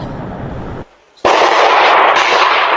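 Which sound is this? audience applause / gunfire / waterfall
gunfire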